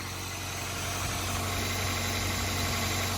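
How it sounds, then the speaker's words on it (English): A 2003 Toyota Matrix engine idles steadily nearby with a constant low rumble and faint vibration, no voices. "Disconnected the high side hose, started the engine"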